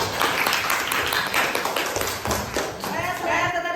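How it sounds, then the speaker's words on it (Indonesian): A group in a classroom presentation session applauds the presenting groups, a steady burst of many hands clapping at close range for several seconds. "beri aplaus untuk kelompok 1 dan kelompok"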